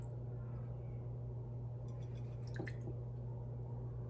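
Thick honey is added to a granola mixture, giving a few soft, sticky squishes and small drips, close and faint over a constant low hum, with no talking.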